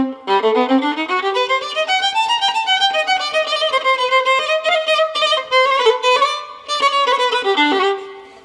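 Violin plays the Romanian folk tune Sârba Creață at full tempo, a fast, continuous run of bright bowed notes rising and falling in quick ornamented passages, close and clear.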